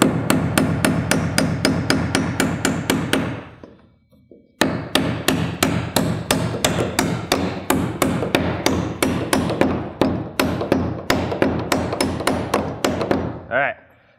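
Hammer strikes drive nails at an angle to tack a brace into place in conventional roof framing, loud close blows in rapid even bursts, a short pause after about three seconds, then a long steady run of hits.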